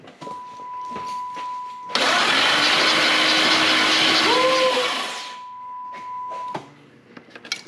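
Chevrolet Camaro burnout car cranking over on its starter, a loud broadband whir and churn that holds steady for several seconds and then cuts off, with a steady tone running beneath it.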